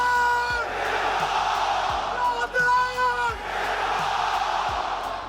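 A large arena crowd roars and cheers at a UFC fight walkout, a sustained loud wall of voices with rising yells, plus a booming rhythmic beat underneath.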